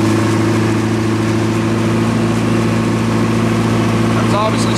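Military MEP-004 single-phase diesel generator running loud and steady with a constant engine drone, as a compressor starts under load, with a brief higher whine near the end and no talking over it.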